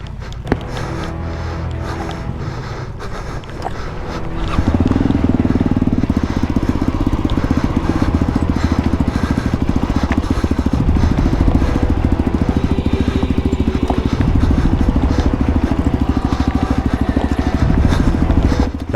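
A heavy trail motorcycle of over 220 kilos drones steadily during the Baja Aragón rally, louder after the first few seconds, with rough low rumble and clattering as it labors along.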